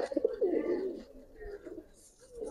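A Giribaz pigeon, a silver black-necked high-flying breed offered for sale, coos in a rolling burst up front, then softer trailing coos, close and fairly quiet with no speech.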